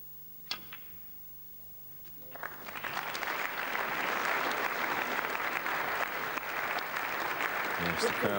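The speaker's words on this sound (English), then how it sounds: "Yes, the crowd applaud." Near the start a snooker ball clicks, then a snooker crowd breaks into sustained applause that swells and holds steady, heard from a distance, with a voice faintly underneath.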